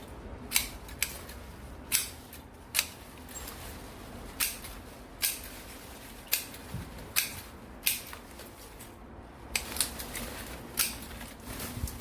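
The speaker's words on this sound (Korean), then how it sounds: "잎을 이렇게 잘라 주셔야 됩니다." Scissors snipping the leaves of a lucky bamboo (Dracaena) plant, a series of sharp, quiet cuts in an irregular rhythm with pauses between them, close up in an otherwise quiet room.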